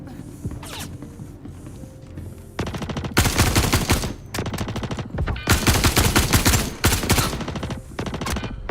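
Gunfire in the space game Star Citizen, bursts of rapid automatic shots that grow loud and dense after a quieter opening, continuing in long clattering volleys at close range.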